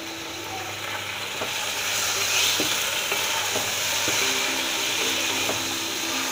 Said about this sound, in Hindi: और इसे अच्छी तरह से भून लेंगे। फुल आंच रखेंगे चूल्हे की।